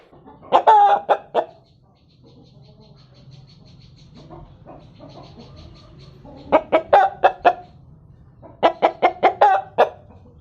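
A Suro rooster clucks close by in quick bursts of sharp calls, with a quieter stretch between them and a low background murmur.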